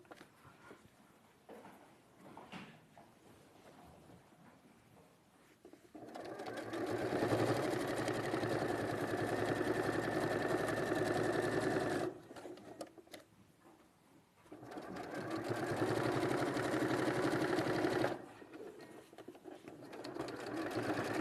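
An Elna sewing machine stitching fabric, running in two long steady whirring bursts separated by pauses, with softer handling noises in between.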